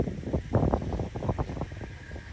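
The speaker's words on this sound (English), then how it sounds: "It's kind of windy, y'all, so it might be a little noisy" Gusty wind buffets the microphone in low, uneven rumbles, with a faint steady hiss in the background.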